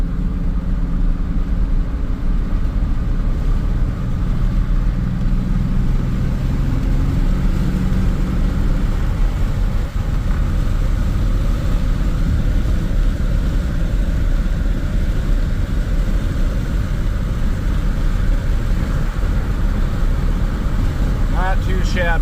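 A car engine fitted with Holley Sniper S10 fuel injection runs steadily while driving, a loud continuous low mechanical drone with road rumble filling the whole stretch.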